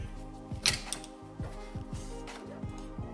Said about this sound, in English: 1/2-inch drive ratchet